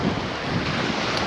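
Strong wind of about 30 mph gusts on the Humber shore, roaring steadily and buffeting the microphone loudly and close throughout, with no voices.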